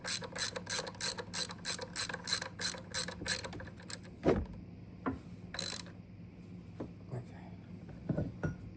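A ratchet wrench turns the upper engine mount bolts on a 2017 Ford Escape 2.0, giving a rapid, rhythmic run of sharp clicking strokes up close. Scattered slower clicks and knocks follow.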